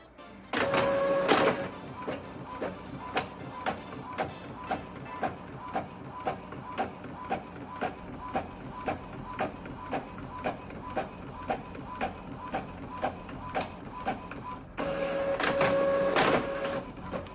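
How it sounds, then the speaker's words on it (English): An Epson EcoTank 2400 printer runs a print job, a steady, evenly spaced mechanical ticking and whirring from the paper feed, with louder motor bursts as it starts and again near the end, heard alone and close. "it's already gonna start printing"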